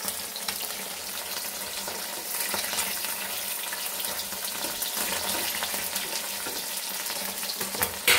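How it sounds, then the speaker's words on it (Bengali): Food frying in a pan at home, a fairly faint, steady sizzle and crackle that runs unbroken, with a small clatter near the end. "আর এগুলো ভাজা হচ্ছে।"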